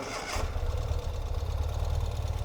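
A 2021 Ural Gear Up motorcycle engine cold-starting, a brief starter whirr that catches into a steady, throbbing idle, close and loud with no voices.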